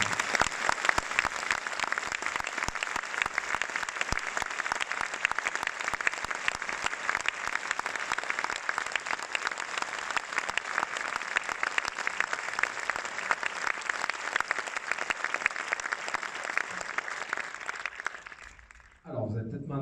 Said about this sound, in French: on peut les applaudir extrêmement fort